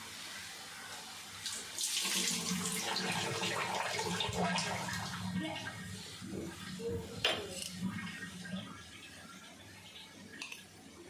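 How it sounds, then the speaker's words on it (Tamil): Hands with masala on them are washed under a running kitchen tap, water splashing steadily into a sink with rubbing sounds and a few clinks of dishes. "கையை கழுவிட்டு வரேன் கையெல்லாம் மசாலா இருக்கு"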